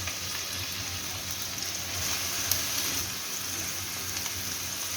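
Washed dried loitta fish dropped into hot oil in a frying pan, giving a steady, fairly quiet hiss of sizzling frying without pause, close by and with no talking.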